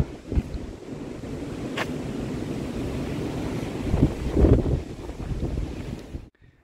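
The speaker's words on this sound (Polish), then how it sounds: "Bo wieje dzisiaj przeokrutnie." Strong gusty wind buffets a river pier, a loud rumbling roar beating against the microphone with rushing bursts that swell toward the end before cutting off, with no talking.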